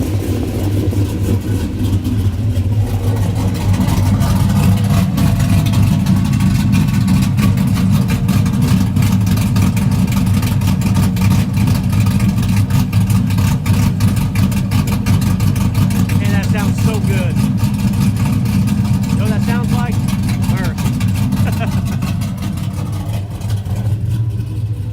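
A Ferrari LaFerrari hypercar engine, remote-started at a Florida cars and coffee meet, settles into a loud, steady low idle with a brief rev as it catches, heard under crowd chatter throughout.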